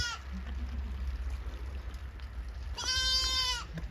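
A baby goat in a village farm pen near Elazig gives one close, clear bleat lasting under a second, after a stretch of low outdoor rumble and quiet ambience.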